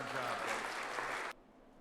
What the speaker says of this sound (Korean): 박수를 쳐야 할 것 같은데요.